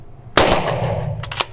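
A shotgun fires once at driven game outdoors, a sharp loud blast with a brief trailing echo, followed by a couple of faint clicks or distant pops.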